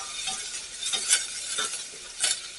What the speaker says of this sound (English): I used a little olive oil for the sauteing.